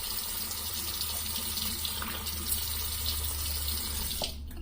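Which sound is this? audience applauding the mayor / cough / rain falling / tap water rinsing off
tap water rinsing off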